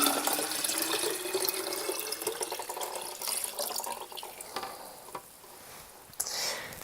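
Water poured steadily onto dried hibiscus flowers for tea, a loud continuous splashing pour that thins and tapers toward the end with a few small clinks.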